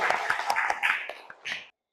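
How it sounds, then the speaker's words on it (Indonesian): A school class at an Islamic studies lesson claps along in a patterned rhythm: sharp, near bursts of hands in a quick rhythmic sequence, ending in a short final flurry, then silence. "tepuk tangan dulu"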